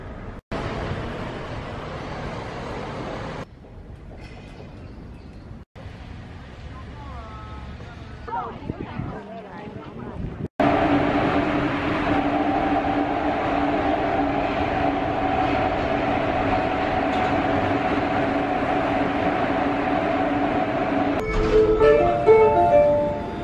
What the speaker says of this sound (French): je suis à Saint-Denis-Pleyel, c'est la nouvelle gare qui a été construite